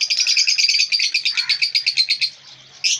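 Lutino, personata and black-eyed lovebirds in a colony nest give a rapid, loud, close run of repeated chirps, briefly pausing before one more burst.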